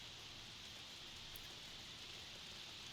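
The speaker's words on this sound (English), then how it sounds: "see if we can escape this rain at all" Steady rain hisses without a break in The Sims 4 video game, a soft, even wash of falling drops with no voices or other sounds over it.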